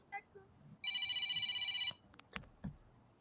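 Telephone ringing indoors: one sustained electronic ring burst of about a second, preceded and followed by scattered soft knocks and handling sounds, with no speech.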